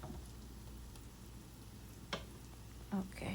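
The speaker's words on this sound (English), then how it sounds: "We are not going to burn the spices, just toast them." Whole spices toast quietly in a pan for dill pilaf, a faint low sizzle with a few soft stirring clinks near the end and a brief word spoken.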